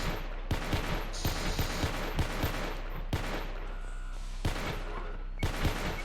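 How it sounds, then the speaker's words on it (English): Rapid bursts of gunfire from weapons in the space station game Space Station 14, repeated sharp shots and volleys rattling loudly across the whole stretch with no talking. "Those guns are cool sounding."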